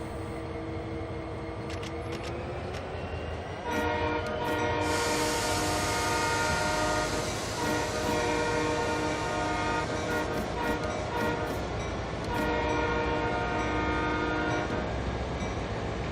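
A locomotive in the Train Sim World 2 video game sounds its horn in two long sustained blasts over a steady rumbling engine drone, loud and close, with no talking.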